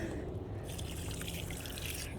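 Water draining and dripping out of a waterlogged garden plant pot outdoors, a steady close trickle with scattered drips running throughout under faint background hiss.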